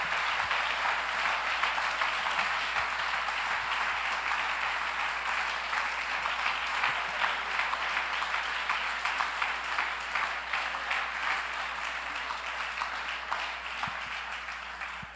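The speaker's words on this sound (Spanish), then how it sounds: "Dale un aplauso al nombre del Señor." A church congregation applauds, a dense, steady wash of many hands clapping together, sustained for a long stretch at an even level and slowly tapering at the end.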